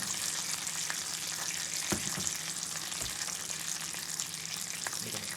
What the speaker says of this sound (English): Making the French toast last.